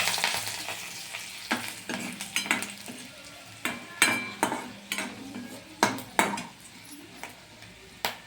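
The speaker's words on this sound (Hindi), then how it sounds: "अब मिर्चा को डाल रहे हैं।" Green chilies dropped into hot oil with cumin and garlic, a close sizzle broken by repeated sharp clinks and scrapes of a spoon stirring in the pan.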